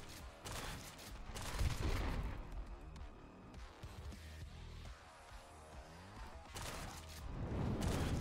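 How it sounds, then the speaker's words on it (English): Shotgun fire in a Minecraft recreation of Doom 2016, loud booming blasts around 1.5 s and again near 7 to 8 s over dense game music and effects. "Shotgun."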